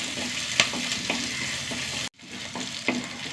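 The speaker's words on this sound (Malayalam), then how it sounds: "ഉള്ളി ഒന്ന് മൂത്ത് വരട്ടെ." Small onions and garlic frying in a pan, a steady close sizzle with a few stirring clicks, briefly cut to near silence midway before the sizzling resumes.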